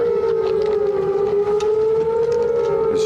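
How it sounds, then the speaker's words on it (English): A civil defense warning siren wails steadily during a mortar attack at a military base on a USO tour, sustained and loud throughout with a slight rise and fall in pitch and no voices. "the sirens go off, and they said we're under mortar fire."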